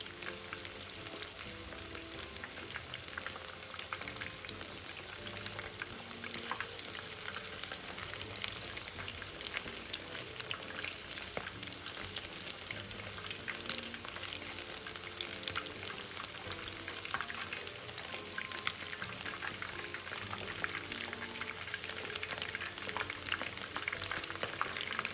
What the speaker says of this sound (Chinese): 再将鸡肉放入油炸。 初下锅不要搅动，待鸡块定型后再逐一翻面。